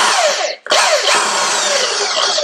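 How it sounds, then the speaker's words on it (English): A power drill bores through metal during a drum pedal hinge repair, a loud whining burst that cuts out briefly, restarts, and runs steadily close to the microphone. "I like this drill"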